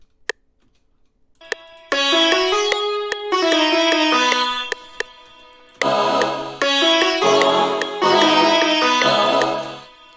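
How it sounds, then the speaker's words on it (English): Sitar melody leading a dry, layered electronic drop with a desert and volcano feel, loud plucked phrases in two bursts after a brief quiet start, no voices. "So for the melody I used a sitar"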